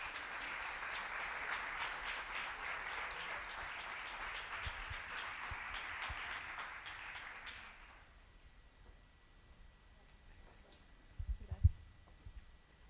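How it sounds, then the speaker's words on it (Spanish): Applause from a church congregation welcoming a speaker to the pulpit fills the first eight seconds as a broad, steady clatter of many hands, then cuts off into a quiet room with faint low thumps and a brief handling bump near the end. "La recibimos con un aplauso."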